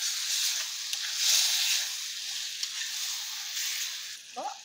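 Eggplant sautés in hot oil for a Kerala-style mezhukkupuratti fry, giving a steady, bright sizzle that holds evenly throughout, with a brief clink near the end.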